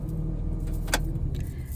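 A car engine idling with a low steady rumble, with a brief jangle of keys and small handling clicks close by, no talk.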